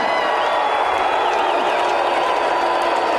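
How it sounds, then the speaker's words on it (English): Wrestling arena crowd at WrestleWar '89 cheering and applauding after the heavyweight champion Ric Flair is introduced, a steady, dense roar of voices and clapping that holds loud throughout with no individual speech. "Did you hear that crowd reaction?"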